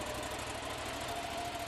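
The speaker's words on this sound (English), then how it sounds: "press and hold the Start button until the engine starts" Small engine of a Proforce remote-controlled machine running steadily, a continuous even drone with a fine rapid pulsing throughout, moderately close and with no talking.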